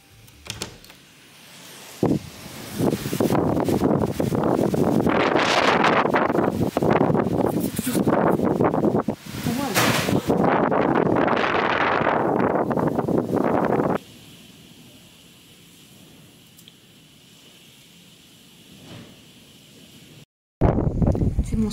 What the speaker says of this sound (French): il y a toujours beaucoup de vent.